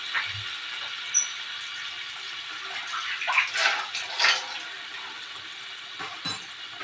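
A yogurt bowl being rinsed with water, producing a steady close trickle and splash with a few light clinks of the bowl, without talk.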